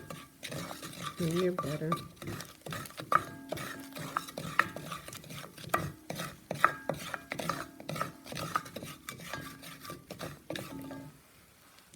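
A utensil stirs a whole wheat flour roux in butter in a pan, producing repeated close scraping and knocking strokes against the cookware, with a person talking briefly over the stirring.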